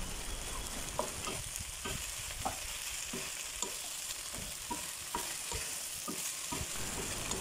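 Potatoes, green beans and white onion cooking in a pan, with a constant sizzle and a steady rhythm of stirring strokes scraping the pan, close and without speech.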